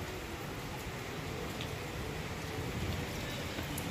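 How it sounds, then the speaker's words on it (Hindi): Steady rain falls outside during a cloudy day with thunder around, a continuous even hiss of drops on surfaces with no voices over it. "सो गाइस देख सकते हैं आप बारिश"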